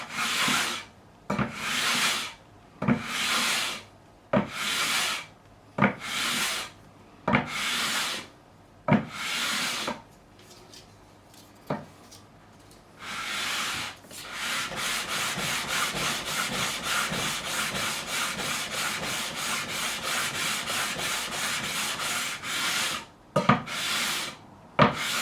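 Strokes of a fret-levelling file or sanding block rubbed along the frets of a Fender Stratocaster neck during a refret, first a run of separate rhythmic passes, then a longer continuous rasping stretch, close and clear with no talk.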